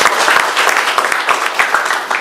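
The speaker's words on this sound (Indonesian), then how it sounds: "Tepuk tangan untuk Tuhan Yesus." A church congregation claps during a Sunday service, a dense, steady round of applause with uneven bursts of clapping throughout.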